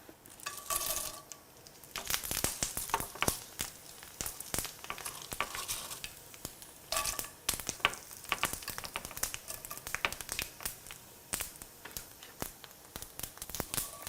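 Miyeokgwi, seaweed sporophyll, sizzles and crackles in hot oil in a pan, with dense frying hiss and sharp pops alongside occasional stirring clinks, heard close up.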